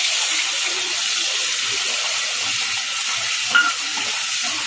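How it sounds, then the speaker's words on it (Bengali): Potatoes fry in a pan with a steady, close, hissing sizzle and a single brief utensil clink near the end. No one talks. "আলুটা একটু লাল লাল করে ভেজে নেবো"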